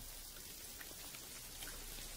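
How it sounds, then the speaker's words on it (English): Steady rain falls throughout, a dense, even patter of drops hitting a surface, used as an effect in a music video and heard alone at moderate level. "Jimmy comes home out of the rain, soaking wet upon a wheelchair, drinking again."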